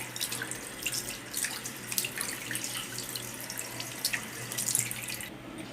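Water running steadily from a tap into a sink as plant leaves are washed, a continuous close splashing flow with small drips, and no talking.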